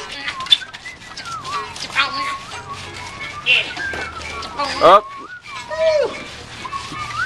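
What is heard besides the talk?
whistling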